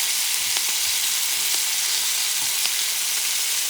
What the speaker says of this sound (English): I'm going to start adding the green vegetables